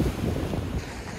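Stormy Black Sea surf in Sochi, waves rolling and crashing onto the shore while strong wind buffets the microphone, a steady dense roar with no voices.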